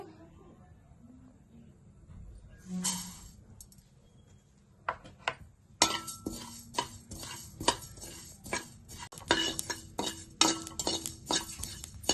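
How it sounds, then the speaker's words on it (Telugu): Sesame seeds stirred and roasted in a pan, heard as a quiet background sizzle at first, then repeated scraping and clinking of a spoon against the pan in an irregular rhythm. "ఇప్పుడు మనం స్టఫింగ్లోకి 1 కప్పు నువ్వులు వేపుకోవాలి."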